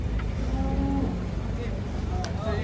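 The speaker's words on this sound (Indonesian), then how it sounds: "Datang sapi ngamuk lagi nih." Large cattle and bulls being unloaded from a truck before Eid bring out deep, drawn-out moos against a noisy outdoor crowd, with people talking and a low engine rumble.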